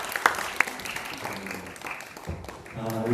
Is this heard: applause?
yes